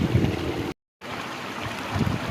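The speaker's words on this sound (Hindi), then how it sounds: "वो आबशार जो ऊपर से आ रही है" Water from a waterfall pours steadily into a small pond in a forested valley, a continuous broadband rush with a brief gap partway through, no voices.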